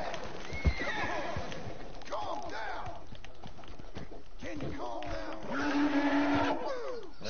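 A horse in the video game Red Dead Redemption whinnies loudly several times, its shrill neighs rising and falling over hoof clip-clops and game sounds.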